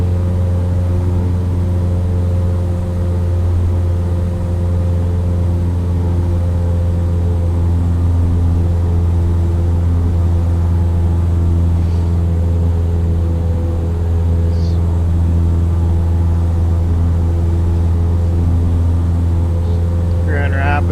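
Cessna 172 engine in Microsoft Flight Simulator 2020, a steady low droning hum with stable harmonics throughout, loud and continuous with no talk in this stretch.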